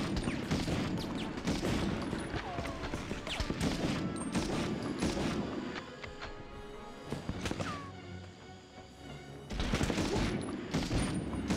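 Dense bursts of gunfire and blasts fill the Medal of Honor battle, loud and close, easing into a quieter stretch around six to nine seconds before another heavy volley breaks out near the end.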